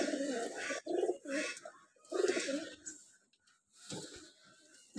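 Pigeons on a rooftop loft make soft, breathy cooing in several low bursts, close by and moderately loud, with faint chirps between them.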